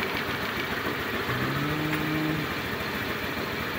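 A Euro Samurai 155 motorcycle, just cleaned, idles close by with a steady, even engine drone, continuous and moderately loud, with no talking.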